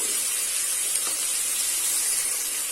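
Cashews frying in a hot pan with onions for a chow chow (chayote) butter masala, giving off a steady, loud sizzling hiss that runs on without a break and with no voices.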